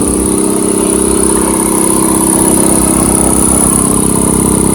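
Air compressor running with its fan, heard as a loud steady mechanical hum and motor drone that stays constant the whole time, close up.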